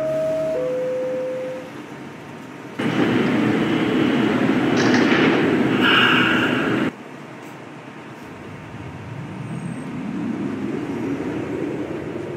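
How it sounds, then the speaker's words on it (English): A subway train at Fairview Avenue on the 5th Avenue Lines closes its doors with a short chime, then a loud burst of door and platform noise, followed by the train pulling away with a rising rumble. "Stand clear of the closing doors"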